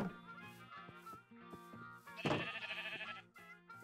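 Minecraft sheep bleating on a farm, a few short game bleats sitting among background game music and effects, fairly quiet overall.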